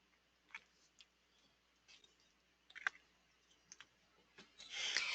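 Faint, sparse clicks from a computer mouse at irregular intervals, ending in a brief burst of hiss, with no speech.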